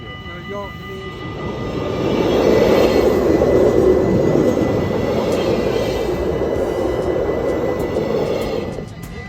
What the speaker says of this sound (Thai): รถไฟจากเยอรมนีกำลังมาค่ะ